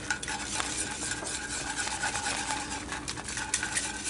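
A spoon scrapes and stirs through a pot of broccoli soup made with goat Colby cheese as salt is mixed in, giving steady close scraping and clinking with a soft sizzle underneath and no talking.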